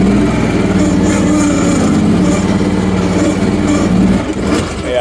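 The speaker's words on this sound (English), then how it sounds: "Do a little ground scraping, pushing sand here." An AGT Industrial KRW23 end loader's small engine drones steadily and loudly while pushing and scraping sand, with a brief dip near the end.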